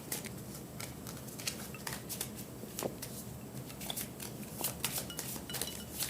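Star Wars Clone Wars game cards being shuffled by hand, a busy run of close riffling and snapping bursts repeating over several seconds with no talking.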